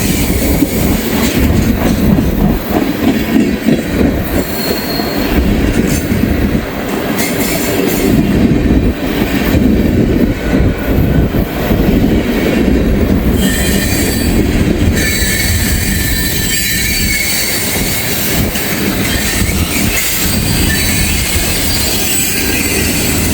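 Freight trains on a CSX coal line roll past close up, a loud, continuous rumble of wagons with clickety-clack and bursts of squealing wheels.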